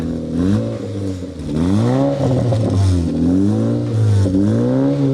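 Orange Honda Fit RS with a manual gearbox revving hard, the engine pitch climbing and falling in repeated loud sweeps close by, with no one talking.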